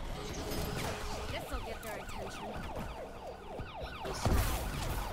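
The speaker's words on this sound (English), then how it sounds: "You can turn on the ambulance siren." Ambulance siren in a zombie video game, wailing in fast repeated up-and-down sweeps over a low engine rumble, steady and fairly close throughout.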